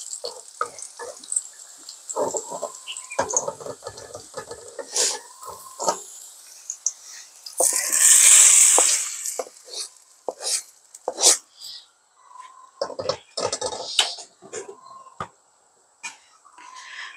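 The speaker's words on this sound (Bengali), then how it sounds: "বাগার দিচ্ছি।" Hot-oil tempering poured over spiced lentils with garlic, turmeric, chili and salt gives one loud, brief sizzling burst in a pan, surrounded by scattered clinks, taps and scraping in a quiet kitchen.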